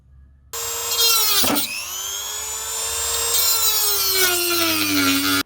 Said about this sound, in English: take a Dremel to it and cut it off